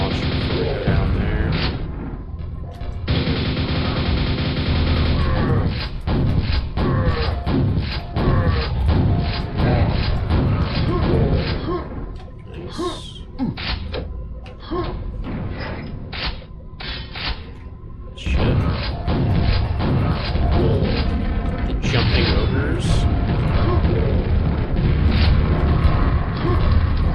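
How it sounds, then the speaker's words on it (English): Grenade launcher blasts and crashes in a Battlefield 6 shooter encounter, a dense, loud run of booming impacts and clattering mechanisms throughout, with a brief lull midway before the barrage resumes. "Grenade launcher before we go down there."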